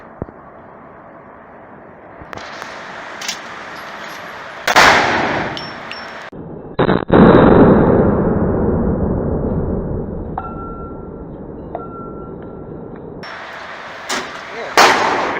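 A Magnum Research Desert Eagle pistol in .50 fires indoors at a tactical range, with a few loud, sharp reports spaced seconds apart and ringing reverberation, over low room noise.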